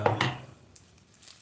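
Blunt knife chopping onions on a chopping board during home cooking of a green pepper sauce, a couple of close, dull knocks at the start fading into quiet.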